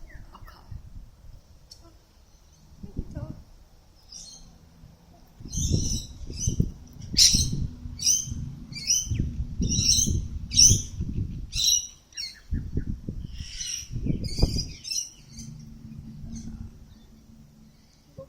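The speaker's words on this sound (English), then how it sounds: "so we'll go back to the pigeons" Pigeons in a city setting, bursts of wing flapping and soft bird calls in clusters over several seconds, fairly close, with quieter gaps between and no talk.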